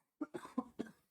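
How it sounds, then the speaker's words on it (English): A short burst of four quick coughs from one person, close and fairly quiet, evenly spaced within about a second. "just got a cough"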